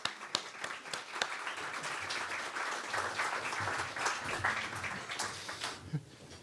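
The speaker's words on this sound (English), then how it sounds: "please let's have a round of applause for the author" An audience at a luncheon book talk applauds the author with a dense, sustained patter of clapping, fairly even and moderately loud throughout, with a faint voice near the end.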